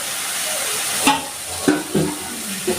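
Spiced masala with Kashmiri chilli powder and turmeric fries in oil in a pan, a steady close sizzle broken by four distinct scrapes of a spoon stirring through it.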